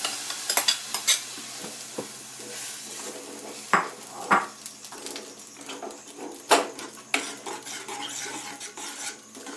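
Vegetables for a coconut masala tiffin sambar sauté in a pan with a quiet sizzle, while a spoon scrapes and clinks against the metal in irregular bursts close by.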